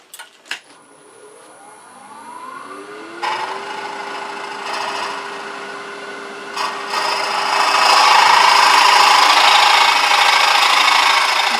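A box elder hollow form spins on a wood lathe while a hollowing tool works inside it, giving a scraping, rasping cut that climbs in pitch and grows louder toward the end, over a steady motor whine and with no voices.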